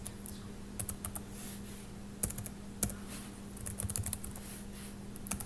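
Key clicks on a computer keyboard while words are typed into rows of a table, a steady patter of taps with a few sharper, louder strikes over a constant low hum, close and alone.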